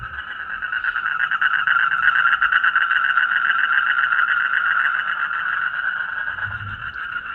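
A dense, continuous chorus of toads croaking, many calls overlapping into a steady pulsing trill that stays loud and close throughout.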